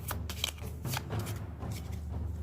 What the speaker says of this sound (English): separate the location decks into the monster encounters and the place encounters, and shuffle them each up